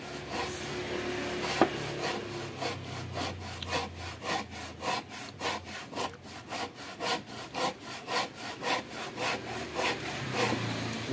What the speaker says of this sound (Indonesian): Ini gergaji sangat fungsional ya.